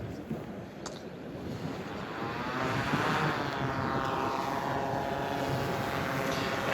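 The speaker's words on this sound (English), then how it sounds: "It is a drone that we use quite a lot." An electrically powered drone flies at a drone show, its steady propeller whir rising and holding at a moderate level for several seconds with no talk over it.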